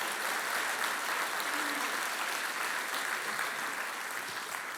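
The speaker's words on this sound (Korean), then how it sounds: "다시 한번 뜨거운 박수로 감사합니다." A church congregation at a Korean Sunday service applauds in a steady, even wash of clapping that stays fairly faint and diffuse, as if heard from a distance across a large hall.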